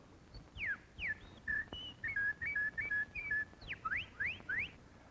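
A sound effects man whistles in imitation of a bird, a run of short bright chirps, slides and twittering trills in quick bursts, close and clear with no talk.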